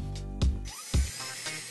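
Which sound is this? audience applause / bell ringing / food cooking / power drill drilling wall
power drill drilling wall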